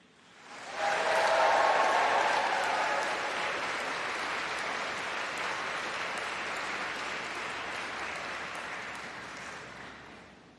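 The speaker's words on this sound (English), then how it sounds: "let's have more applause and a cheer just from you for those family and friends sitting in front of you" A graduation congregation audience breaks into loud, sustained applause and cheering that swells quickly and holds steady for about ten seconds before fading.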